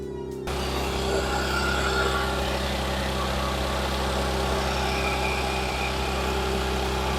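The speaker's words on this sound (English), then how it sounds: "Car is idling nicely" An S4's supercharged car engine idling steadily and close by, a constant low rumble with a smooth hum that holds after a brief start.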